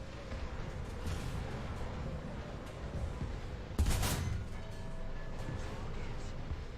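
A tank gun firing in War Thunder: one sharp, loud blast with a brief rumbling tail partway through, set against low steady engine noise of the game.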